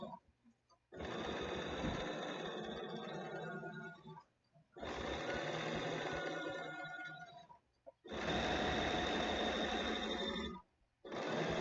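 A Bernina sewing machine sews a zigzag stitch over a tailor tack foot in three sustained bursts of fast rhythmic whirring and clatter, separated by short quiet pauses, close and clear.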